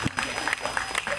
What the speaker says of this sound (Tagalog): Palakpakan po natin si Julian.